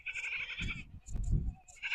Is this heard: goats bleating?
yes